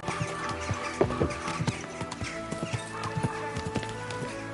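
A horse's hooves clop in an uneven rhythm close by, with a whinny and snorting mixed in.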